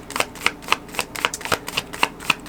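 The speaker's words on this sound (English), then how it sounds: "when I was shuffling the cards right now" Tarot cards being shuffled during a Libra reading, a crisp riffle of papery flicks and snaps landing in a steady, rapid rhythm of about four per second, close and clear with no talking.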